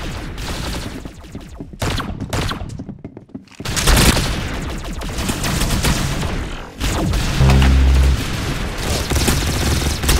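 Dense, loud gunfire from a shooter video game fills the clip, with bursts of rapid shots, heavy booming blasts and short gaps between volleys, all close and intense with no talking over it.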